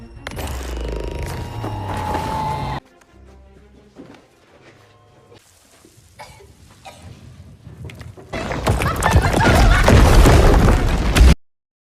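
A bomb blasts a small hole in a cave wall in a film: a loud burst of noise opens, followed by a quieter stretch of scattered rumbling, then a heavy crashing roar of collapsing rock swells before cutting off abruptly.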